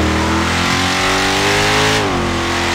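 A modded car with a 457 engine revs hard in GTA 5, a loud close-up engine whose pitch climbs steadily for two seconds and then drops sharply as the throttle eases.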